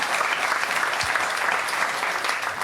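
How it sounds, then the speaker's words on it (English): Audience applause at a live podcast show, given as a big round for a production crew member. The clapping is full, dense and sustained at a steady level throughout. "Give him a big round of applause."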